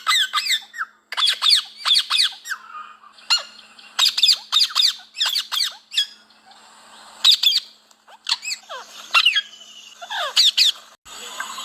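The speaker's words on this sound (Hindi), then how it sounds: "ये मेरा तोता काफ़ी किस्म की आवाज़ें निकालता है" A pet parrot squawks and calls in a rapid series of loud, shrill bursts with short pauses between them, close by and with no talking.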